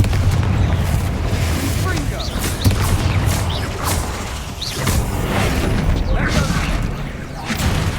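The Confringo spell in Hogwarts Legacy sets off a series of deep booms and crackling blasts inside a tomb, loud and continuous against dense game ambience.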